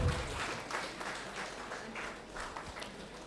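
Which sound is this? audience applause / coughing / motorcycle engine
audience applause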